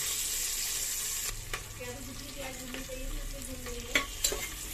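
Onions frying in a pot for one-pot chole, a close steady sizzle broken by stirring scrapes and a couple of sharper clanks near the end, with no voices.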